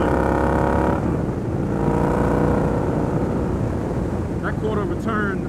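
Victory Gunner motorcycle with a quarter-turn throttle setup, engine loud and close as it accelerates, a deep rumble climbing in pitch through a gear change with wind noise over the top.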